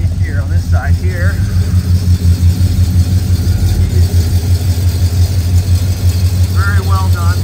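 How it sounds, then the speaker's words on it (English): A deep, steady idle from a 1985 GMC C1500 pickup's 350 small-block V8 through dual exhaust, a low throbbing rumble, close by, with brief voices talking over it at the start and end. "Hear that dual exhaust idle there."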